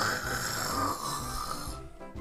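Someone mimics snoring with their voice, producing a sustained rasping, throaty snore that holds steady before cutting off near the end.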